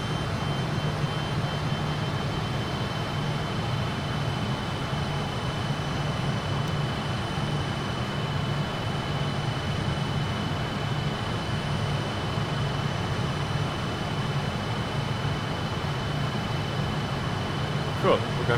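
Fokker F28 turbojet engines at climb power inside Microsoft Flight Simulator, a steady, unchanging roar with a faint high whine, droning on continuously with no other sounds standing out.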